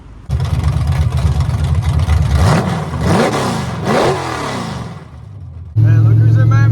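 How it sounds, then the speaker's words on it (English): A 1979 Camaro Z/28 running open headers with the exhaust removed revs loudly nearby, rising and falling through several sharp throttle blips before settling into a heavy, rumbling idle. "I took the exhaust off my car and ran open headers."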